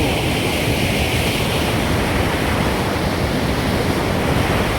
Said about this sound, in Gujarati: આ મચ્છુ નદીનો અવાજ જાજો આવે છે